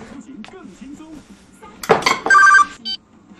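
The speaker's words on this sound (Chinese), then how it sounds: "你有电话。" A household phone gives one short ringing burst, loud and near, after a clatter like dishes and alongside talking voices.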